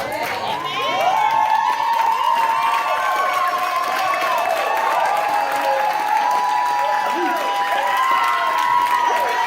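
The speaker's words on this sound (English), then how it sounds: "Let's stand up and give him a round of applause." A church congregation at Kingdom Word Church applauds and cheers for a standing bishop, steady loud clapping mixed with shouts and voices of the crowd throughout.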